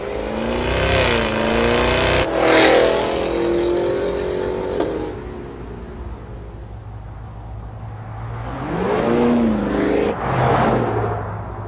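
A 2023 Cadillac Escalade V with a hand-built supercharged 6.2-liter V8 accelerates hard, its engine climbing through rising revs with gear shifts, easing to a steady drone, then surging again in two loud, close bursts.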